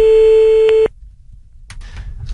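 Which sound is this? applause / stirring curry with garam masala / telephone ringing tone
telephone ringing tone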